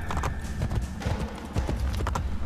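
Horse hooves clip-clopping in rhythmic galloping beats in the video game Assassin's Creed Brotherhood, close and fairly loud, with a brief whinny-like tone.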